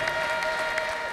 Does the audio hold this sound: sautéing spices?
no